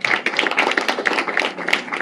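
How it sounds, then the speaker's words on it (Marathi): Audience clapping at a stage event as dignitaries take their seats, a dense, steady patter of many hands that stays even and fairly close throughout. "एकदा टाळ्या वाजवूया"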